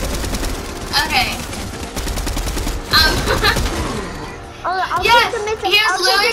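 Rapid gunfire bursts from the Fortnite video game crackle loudly and repeatedly, mixed under excited young voices talking over the action.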